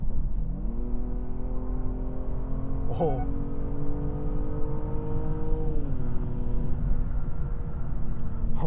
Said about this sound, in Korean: 급가속을 한번 해서 소리와 이 차의 가속력을 한번 엿보도록 할게요